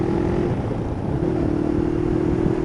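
A 1999 motorcycle engine drones steadily while riding, with a constant low hum and rumbling wind-like noise throughout, fairly quiet and with no talk.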